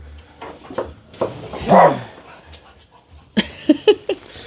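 Pet dogs in a home kitchen whimper, whine and let out short yips and a few barks, close and fairly loud, in scattered bursts over a low household background.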